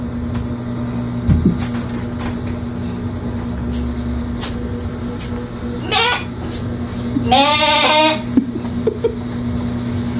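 A goat bleats twice, the second call long and quavering, over a constant electrical hum and low background noise.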